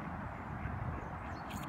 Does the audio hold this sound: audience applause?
no